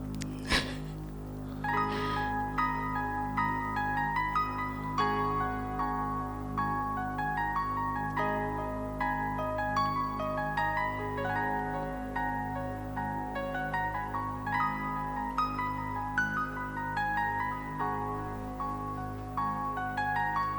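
The power metal song Full Moon from the 1999 album Ecliptica plays steadily, with sustained keyboard chords and a ringing melody over a dense, continuous backing, with no voices.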